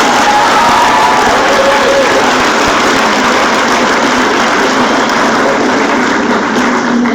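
A large audience at a 4-H state leadership conference assembly gives a sustained round of applause, a dense, loud wash of clapping that holds steady and never pauses.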